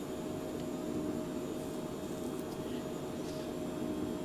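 Phenom business jet engines at max throttle during a climb in a flight simulator game, heard as a steady, even cabin roar with no pauses or changes.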